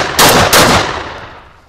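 Maestro Arms 24 gauge bullpup shotgun firing outdoors, two loud close blasts in quick succession followed by a fading echo.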